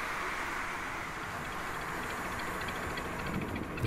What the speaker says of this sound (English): The trains continue to follow on our right hand side.